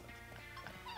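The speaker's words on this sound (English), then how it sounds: "It's such a dog Pokemon" A dog-like creature in the video game Pokemon Shield gives short yipping barks and whines over a steady electronic game soundtrack, faint and brief.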